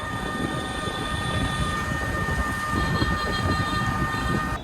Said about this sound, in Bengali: ফাইনালি আমি চলে এসেছি রাজশাহী রেল স্টেশনের সামনে।